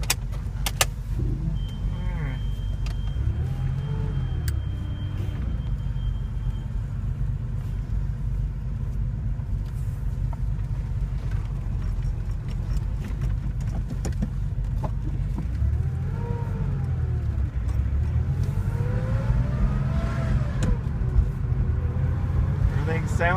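A 1983 Porsche 911 SC with 122,000 miles out on a drive, its engine a steady low rumble blended with road noise throughout, while people talk over it.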